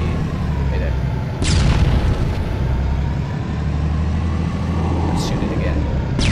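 A tank shell explosion in the game Halo, heard as a deep booming burst with a rumbling low-end roar about one and a half seconds in, set against steady heavy vehicle rumble and a second sharp blast near the end.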